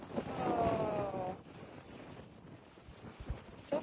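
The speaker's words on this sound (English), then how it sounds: "Oh, it's so windy." Wind buffets the microphone in rumbling gusts outdoors in Death Valley National Park, with a faint voice briefly at the start.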